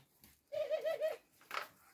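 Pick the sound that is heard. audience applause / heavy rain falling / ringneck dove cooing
ringneck dove cooing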